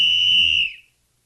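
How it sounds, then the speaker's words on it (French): A referee's single shrill whistle blast on the ice at a hockey game, held steady for over half a second, then cut off into silence. "au coup de sifflet de l'arbitre"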